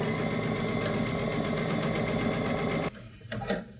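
A sewing machine stitches quilt sashing straight down to the edge in a fast, even mechanical whir close by, then stops abruptly, leaving a few soft handling sounds.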